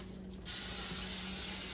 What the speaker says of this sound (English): I'm going to spray everything with Pam